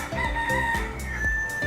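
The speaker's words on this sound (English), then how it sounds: "the cock crows at sunrise" A rooster crows loudly and close by, its harmonic call repeating in quick bursts across the moment with no voices present.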